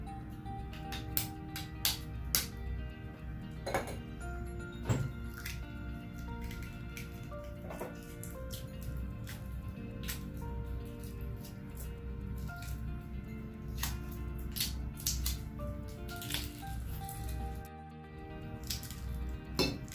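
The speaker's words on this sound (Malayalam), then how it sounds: "എൻ്റെ കാട്ടിലും ഫാസ്റ്റായിട്ട് മുട്ട പൊട്ടിക്കുന്നുണ്ട്" Shells of boiled eggs being cracked and peeled by hand up close, with a long run of sharp crackling taps and soft squishy peeling sounds over a low steady background.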